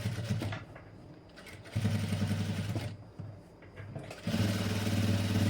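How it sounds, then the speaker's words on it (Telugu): A sewing machine stitches double piping at a fabric corner, its motor whirring loudly in bursts with brief slowdowns and pauses as the corner is turned. "సేమ్ అదేవిధంగా ఇంకొక సైడ్ కూడా కొంచెం స్టిచ్ అయితే వేసేస్తున్నా మూల దగ్గర"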